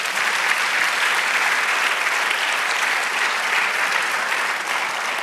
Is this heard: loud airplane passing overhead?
no